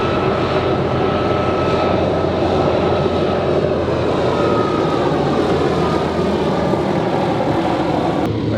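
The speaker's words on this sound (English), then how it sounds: "Helicopter interrupting my video" A helicopter flies overhead at an electric-car charging stop, its engine and rotor making a loud, continuous drone that fills the whole stretch without a break.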